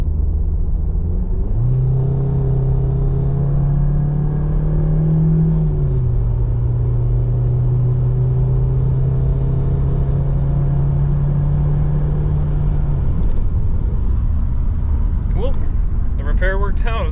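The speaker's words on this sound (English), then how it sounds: "Verifying the turbo now." VW Audi 1.8T car driving while testing a repaired K03 turbo: a steady, loud engine drone with a shifting pitch as it pulls and changes gear, with a brief whooshing rise near the end.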